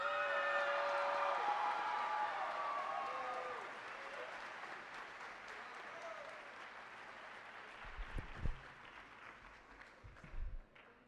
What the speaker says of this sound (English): please give me the loudest round of applause for our principal, Miss Marlene Blocker